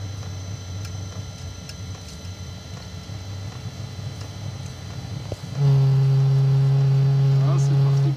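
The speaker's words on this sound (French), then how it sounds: "Ça monte, le ventilateur accélère." A Webasto Thermo 90 diesel heater running with a low hum, then its fan abruptly speeds up partway through into a loud, steady whine with harmonic tones that holds to the end.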